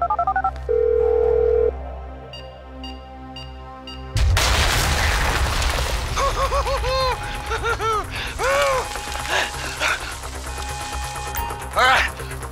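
Phone dialing tones in GTA 5, a short run of beeping keypad tones early on, then a burst of loud game action with gunfire-like booms, sirens and scattered sounds under spoken dialogue.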